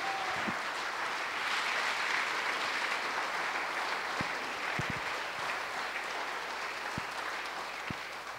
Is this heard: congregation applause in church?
yes